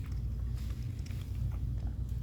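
Crunchy fried oyster mushroom bitten and chewed up close, a few crisp crackly bites over steady low mouth noise, no talking.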